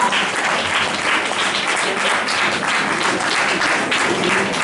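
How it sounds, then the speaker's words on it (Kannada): An indoor audience applauds prize winners at a Kannada Rajyotsava community celebration, a steady, dense roar of clapping from many hands held at an even level throughout. "ಚಪ್ಪಾಳೆಗಳು ಜೋರಾಗಿ ಬರಲಿ"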